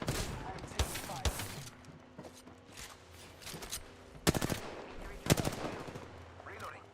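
Gunfire in the battle royale shooter Apex Legends: a few sharp shots and short bursts punctuate steady game ambience, fairly close and separated by quiet stretches.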